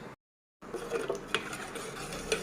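A spoon stirs a thick mixture of rice flour and sabudana with crushed chilli in a bowl, giving soft close scraping and light clinks over about two seconds.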